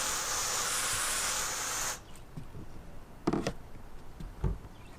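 Water sprays onto the rubber roof of an RV in a loud steady hiss for about two seconds, then stops, leaving faint dripping and a few light knocks and taps.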